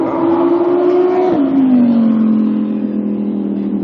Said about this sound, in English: Lamborghini just flying down Las Vegas Boulevard